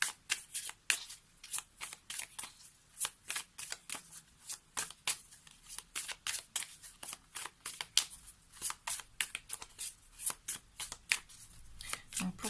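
Oracle cards are shuffled by hand in a steady, rapid run of soft papery riffles and slaps, close and moderately quiet, continuing throughout without pause.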